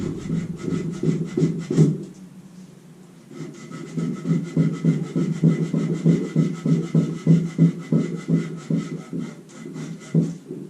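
Rhythmic back-and-forth rasping of sanding on a wooden chair rocker, close and steady, with a short pause early on before the strokes resume.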